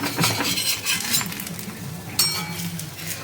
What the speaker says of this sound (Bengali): এবার আমি চারিদিকটা একটু খুন্তি দিয়ে একটু তুলে তুলে দিচ্ছি।